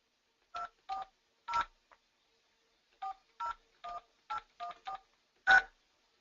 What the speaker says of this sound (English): I can dial my cell phone.